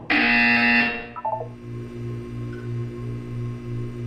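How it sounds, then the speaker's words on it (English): Harsh, loud electronic buzzer from the Portal 2 game sounding for about a second, then cutting to a short stutter of tones and a low pulsing hum that carries on steadily underneath. "When you hear the buzzer, look down at the floor."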